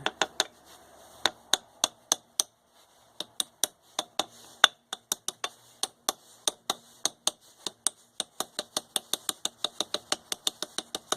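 Sharp metallic hammer taps in uneven bursts, close by, driving a bearing into a Penguin engine crankcase, speeding into a quicker run of blows toward the end.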